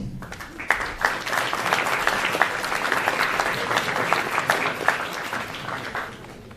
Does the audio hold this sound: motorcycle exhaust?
no